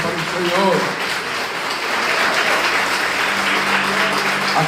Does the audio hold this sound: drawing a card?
no